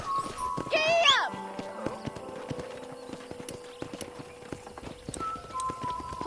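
Horse hooves clip-clopping in the Western video game Red Dead Redemption, with a brief whinny early on, game music and ambience underneath and voices talking over it.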